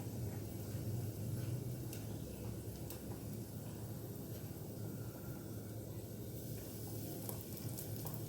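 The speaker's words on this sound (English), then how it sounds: "Just mix it and I'll fry the prawns." Rava-coated prawns fry in a pan over a low flame, a soft, steady sizzle and crackle that runs unbroken, quiet and close, with faint intermittent ticks and no voices.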